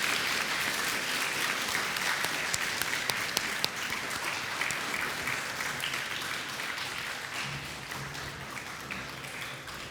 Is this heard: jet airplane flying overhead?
no